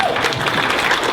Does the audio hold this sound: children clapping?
yes